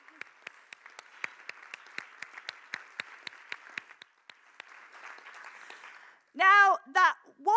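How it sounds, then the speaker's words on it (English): A conference audience gives the organizers a round of applause, sparse rhythmic clapping over a soft wash of hands that fades, then a loud voice speaks at the end. "A round of applause."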